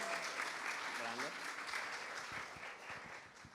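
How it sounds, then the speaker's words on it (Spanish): Audience applause for a guest at a Spanish-language panel talk, broad steady clapping across the whole stretch with a host's voice carrying over it near the start. "para quien pido un fuerte aplauso"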